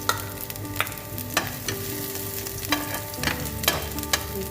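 Garlic frying in cooking oil in a pan while lunch is cooked, a steady sizzle broken by several sharp clinks and scrapes of a utensil stirring, with no talk.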